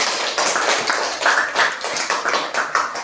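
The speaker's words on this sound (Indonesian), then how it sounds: "Oke, tepuk tangan dulu." Classroom applause from students, brief bursts of hand clapping with an irregular tapping rhythm, fairly close, lasting only a few seconds without speech.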